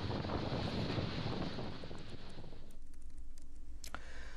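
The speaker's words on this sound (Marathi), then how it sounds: "मांडवा जिट्टी भागात आज जोरदार वारा वाहताना बघायला मिळाला." Strong cyclone wind at Mandwa jetty roars loudly against the microphone at first, then eases into a lower, gusting rush with faint scattered taps and rattles.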